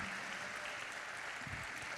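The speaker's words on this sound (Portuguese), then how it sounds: "Vamos aplaudir a nossa liderança?" A church congregation clapping together, a soft, distant wash of steady applause with a low murmur of voices beneath.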